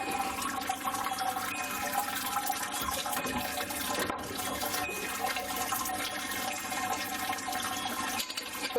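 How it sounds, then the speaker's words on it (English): Beer wort from a thick porter mash with rice hulls drains out of a mash tun, a steady close trickling and splashing of liquid running without pause. "So it's draining pretty good, quite a thick mash"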